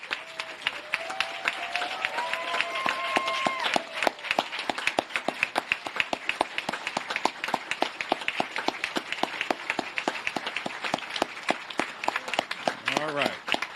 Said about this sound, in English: Please join me in giving them a warm round of applause and gratitude for their courage